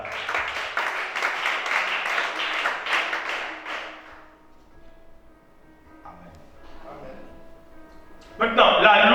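A congregation at a church worship service claps together in a dense, steady burst lasting about four seconds, then fades into quieter room sound, with a short loud noise near the end.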